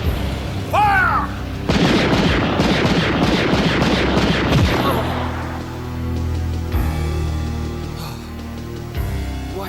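An anime tank formation opens fire: a sharp shout is followed by a loud, dense volley of blasts and rumbling booms that slowly fades into lingering low rumble and scattered later impacts.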